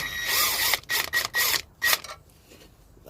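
A ratchet loosens the last clutch bolt on a truck, giving several quick clicking pulls close by and then a quieter pause.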